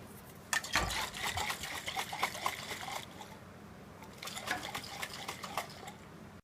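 A lidded container holding a peppermint mocha drink is shaken in two bursts of rapid rattling and sloshing, close and moderately loud, with a pause between them.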